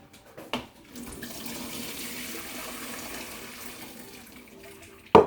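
Water runs steadily from a tap for a few seconds, splashing cold over strained noodles in a sink, starting after a brief knock and ending with a sharp clunk.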